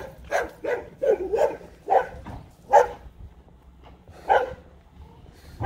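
A dog barks in repeated bursts outdoors on a neighborhood walk, the sharp, moderately close barks spaced irregularly with short quiet gaps between them.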